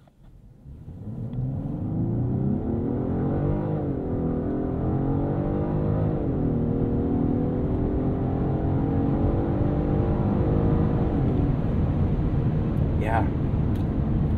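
A 2023 Genesis G90 accelerating hard from a standstill in sport mode, its engine rumble rising steadily and swelling through smooth upshifts, loud and continuous from the cabin with no talk over it.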